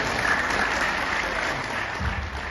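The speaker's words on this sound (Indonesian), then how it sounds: "Boleh tepuk tangan?" A congregation at a fellowship gathering claps together in a steady wash of applause that holds evenly throughout, with no talk over it.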